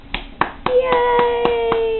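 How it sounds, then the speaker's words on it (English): Hands clapping in a quick, fairly steady rhythm of about seven sharp claps, close by, with a voice talking alongside. "Clap for me, sis."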